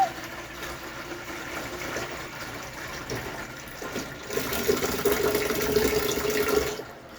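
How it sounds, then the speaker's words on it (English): Tap water running steadily into a very large mug, a continuous hissing stream that grows fuller and louder in the second half as the mug fills. "let's get some water in that mug"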